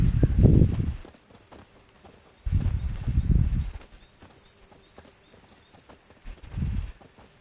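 Roach, a horse in The Witcher 3, clip-clops in loud low bursts of hoofbeats separated by quieter gaps, close and without talk.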